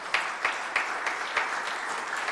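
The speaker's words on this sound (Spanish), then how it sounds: "Denle un fuerte aplauso al Señor Jesucristo." Church congregation applause at an evangelical service, a dense burst of many hands clapping in a loosely regular rhythm, moderately close and without talking.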